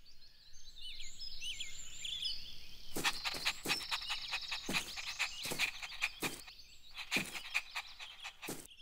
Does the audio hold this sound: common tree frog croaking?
yes